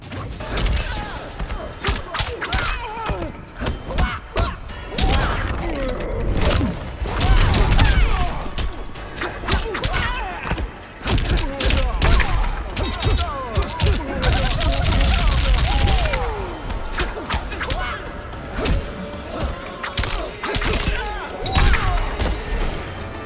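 Fighting game combat from Mortal Kombat 11: a dense, continuous barrage of punches, thuds, crashes and impact effects with game music and announcer-style voices, loud throughout.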